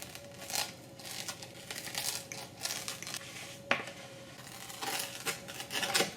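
Ordinary kitchen scissors snip through a frozen Chuck E. Cheese pepperoni pizza, giving soft, close crunching cuts with light crinkling and one sharper snap partway through.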